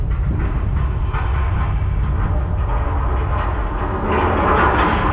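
A subway train rumbles past close by, with a continuous loud roar and faint rail clatter lasting throughout, no talking.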